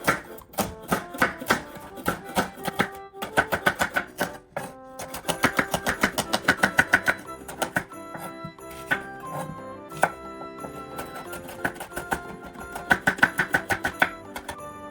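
A knife slicing onions into half-rings on a cutting board, a rapid, close series of crisp, rhythmic chopping taps with brief pauses between bursts, no talk.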